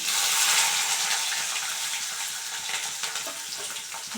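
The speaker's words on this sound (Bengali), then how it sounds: "এবার দিয়ে দেবো পেঁয়াজ কোচানোগুলো এই পেঁয়াজ আর কাঁচা লঙ্কা কুচানি" Chopped onions and green chillies hit hot oil with panch phoron and bay leaf, giving a bright, continuous sizzle that is loudest at first and then settles. No one speaks.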